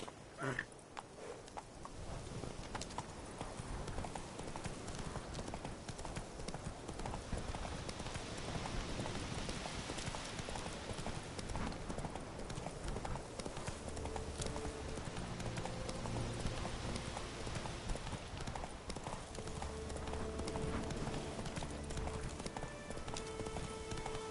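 Roach, a horse in The Witcher 3, walks with steady rhythmic hoof clip-clops over a soft patter like rain, continuing at moderate volume throughout.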